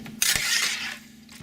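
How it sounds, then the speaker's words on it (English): Cooked venison in a mixture of venison fat and olive oil drained from a pan into a bowl with a spatula: a short clatter of utensil on cookware, a sharp knock, then a fading rustle. "we're draining it off a little bit"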